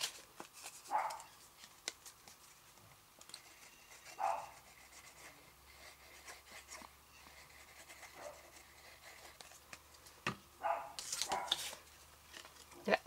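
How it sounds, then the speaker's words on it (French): A pet dog barks at a bird perched on a branch outdoors: a few sharp barks spaced several seconds apart at moderate distance, with soft rustling and shuffling between them. "vous entendez ma chienne qui en a pris un oiseau qui est sur une branche, qui la nargue."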